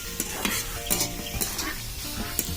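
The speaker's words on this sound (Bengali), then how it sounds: "এগুলো দিয়ে আমি ভালো করে নেড়ে দিলাম।" Fried onion with chili, turmeric, coriander and red chili powder stirred in a pan, a utensil scraping in quick rhythmic strokes over a lively close sizzle.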